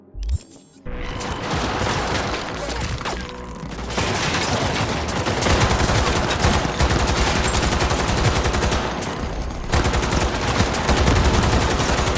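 Rapid, sustained gunfire from a fast-firing gun in the video game Cyberpunk 2077, dense and loud, running in long bursts with a brief pause partway through, heard alone with no talking.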